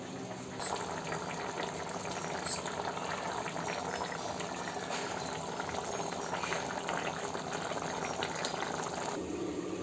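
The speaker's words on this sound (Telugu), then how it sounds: "ఇప్పుడు నీళ్లు బిర్యానీలోకి చక్కగా పొంగులు వస్తున్నాయి" Water for chicken dum biryani bubbles and boils steadily in a pot, a continuous close-up roil with a couple of brief clinks near the start.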